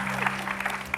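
A studio audience at an Indonesian talk show breaks into a short round of applause, a brief, moderately loud patter of clapping with faint voices mixed in.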